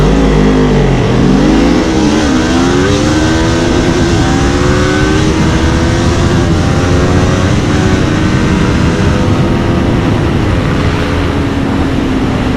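A KTM Duke 390 and a Kawasaki Ninja 400 motorcycle launching in a drag race, loud engines revving hard and climbing through gear changes in a continuous, rising whine.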